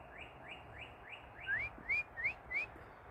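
Birds sing outdoors at a healing center in Wareham, Massachusetts on a June morning, a clear repeated chirping phrase rising in quick succession, close and distinct over soft background noise.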